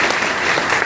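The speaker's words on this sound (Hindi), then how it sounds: "एक जोरदार तालियां।" An audience bursts into loud, dense applause, a brief continuous wash of many hands clapping close by.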